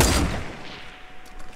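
A single sniper rifle shot in the video game Fortnite, a loud sharp crack at the very start that quickly decays into a fading tail, heard alone.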